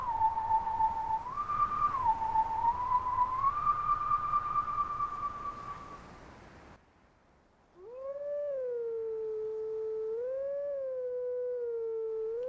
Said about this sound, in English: we have a Howling Stone here